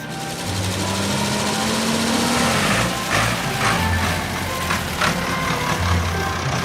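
A cartoon tow truck engine drones steadily under load while pulling a tractor, with faint intermittent high beeps over the rumble.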